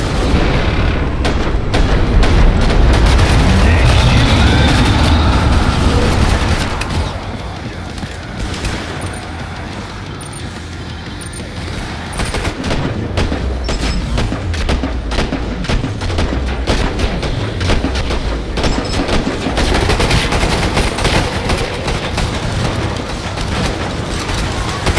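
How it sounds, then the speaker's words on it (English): Heavy gunfire rips through a Killing Floor 2 match in the Biotic Labs map, with dense loud volleys, booming blasts and rapid automatic bursts that ease briefly midway before resuming in rhythmic, repeated shots. "Okay, shooting him."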